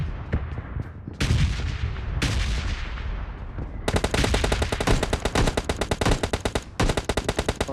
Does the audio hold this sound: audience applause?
no